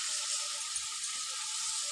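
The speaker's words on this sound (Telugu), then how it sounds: "ఇప్పుడు ఆనియన్స్ కూడా వేసుకొని దోరగా అయితే ఫ్రై చేసుకుందాం ఫ్రెండ్స్." Onions frying in hot oil give off an even, close hiss that runs unbroken for the whole short stretch, with no voices.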